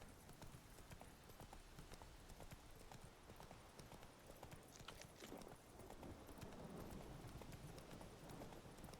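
Roach the horse in The Witcher 3 clip-clops steadily, her hooves striking at a brisk, even rhythm. The sound is loud and continuous and runs throughout.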